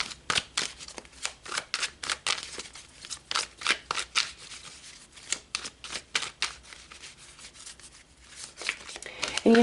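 Tarot cards being shuffled and pulled from a deck, a rapid run of crisp riffling and sliding card sounds close up, with a faint voice near the end.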